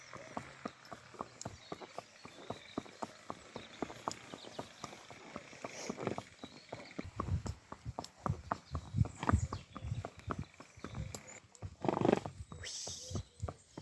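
Hooves of a Lusitano horse clip-clopping at a steady walk on an outdoor ride, close and fairly quiet, while a rider talks softly over the rhythmic steps.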